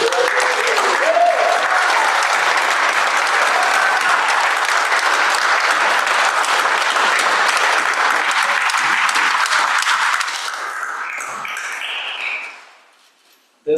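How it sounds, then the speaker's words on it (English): A graduation ceremony audience gives a long, loud round of applause, dense clapping from a large crowd that runs steady for about ten seconds, then thins to scattered claps and fades out. "One last round of applause for all of you."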